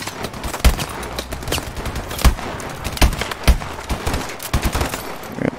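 Gunfire from Call of Duty: Advanced Warfare with a weak-sounding gun, heard as irregular sharp shots and short bursts, loud and close, with no talking.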